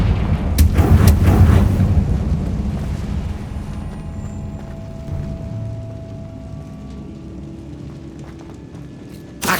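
Fiery Confringo spell blasts in the Hogwarts Legacy video game: a loud burst of booming explosions up front, then rumbling and crackling that fade into a lower, sustained roar, with a sharp hit at the very end.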